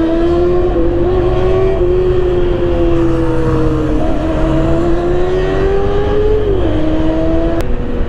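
A Honda PCX160 scooter with a banged aftermarket muffler idling and revving, a loud, close, steady engine drone that rises and falls in pitch with throttle over several seconds, with no talking.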